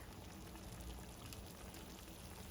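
Cooking water is poured off boiled chicken gizzards into a strainer, giving a steady, noisy splashing rush that runs unbroken for the whole couple of seconds, close and fairly quiet.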